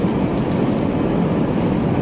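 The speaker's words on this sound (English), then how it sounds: "What are the odds of this train just spawning at this moment?" A train passing during a live storm chase, a steady, loud low rumble and roar with continuous rolling noise and no voices over it.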